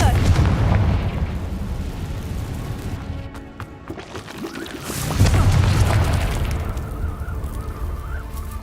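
The Confringo fire spell in the Hogwarts Legacy video game bursts into two loud, deep booming explosions a few seconds apart, each with a roaring fiery rumble that fades out.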